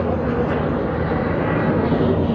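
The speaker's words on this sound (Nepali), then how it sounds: "प्लेन पनि उडो ठ्याक्कै" A loud, steady engine roar from an airplane passing overhead near an airport, a constant rumble with no talking.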